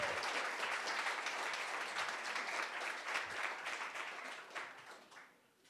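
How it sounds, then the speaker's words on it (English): An audience at a state poetry recitation finals gives a poet a burst of applause, dense steady clapping that tapers off toward the end. "Clap for everyone."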